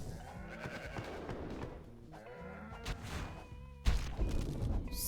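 A sheep-like bleat from an antelope-like creature in the game Dungeon Munchies, sounding among layered game music and effects, followed by a louder crashing hit near the end.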